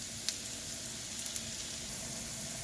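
Scallop-style potato slices sear in a hot pan with a soft, even sizzle and a couple of faint pops, fairly quiet and unbroken.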